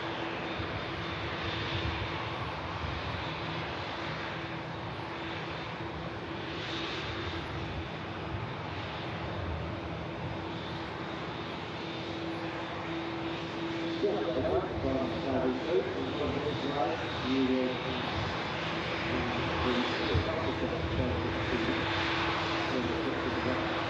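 A nine-year-old Saudia Boeing 787 Dreamliner departs from an airport, a steady jet engine rumble and whine holding close and loud while someone talks over it.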